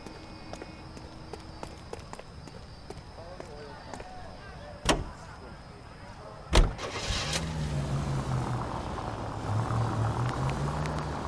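A car in L.A. Noire: footsteps and two sharp door thumps, then the engine starts and settles into a steady low idle that rises and falls slightly.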